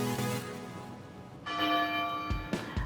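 Large bells ring atop the Red Keep tower in a video game, sounding several loud, resonant strikes whose long metallic tones overlap and sustain, with no talking.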